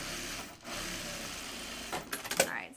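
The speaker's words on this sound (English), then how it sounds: "And I'm gonna sew this from this side, not the batting side." A sewing machine runs steadily, stitching through canvas fabric from the canvas side while making a bag, with a few louder handling clicks and rustles near the end.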